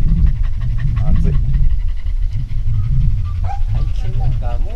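Dogs pant hard at a Japanese dog kennel housing native Japanese breeds and puppies, a steady close breathing rhythm with occasional yips and whimpers, while people talk nearby.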